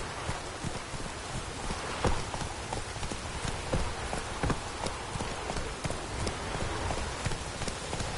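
Horse hooves clip-clop steadily on the ground in The Witcher video game, a continuous trotting rhythm that is fairly loud and close, with a faint rain-like wash beneath.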